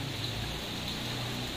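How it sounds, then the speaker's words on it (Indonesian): Afternoon rain in Pematang Siantar, a steady dense hiss of falling rain, close and unbroken for the brief moment, with no voices. "Ini suasana hujan-hujan di Pematang Siantar."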